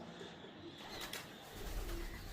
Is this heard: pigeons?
yes